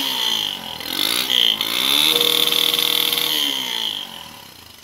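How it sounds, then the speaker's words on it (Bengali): A petrol motorcycle converted to run on LPG idles steadily at about 1000 rpm, its engine drone loud and close, swelling briefly partway through and then holding a constant buzzing tone with no talk. "দেখুন বাইকটা কিন্তু এখন স্টার্ট আছে"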